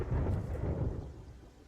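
Rolling thunder ambience from the video game Terraria, a deep low rumble that swells and slowly fades with light rain-like hiss above it.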